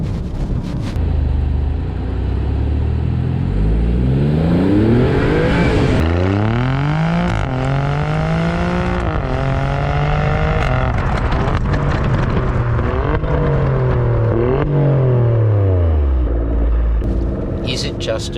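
Alfa Romeo Stelvio Quadrifoglio 2025 engine in race mode, revving through repeated rising pulls with gear changes, loud and continuous from inside the cabin, with people talking over it.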